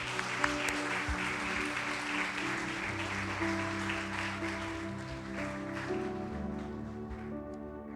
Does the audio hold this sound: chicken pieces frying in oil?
no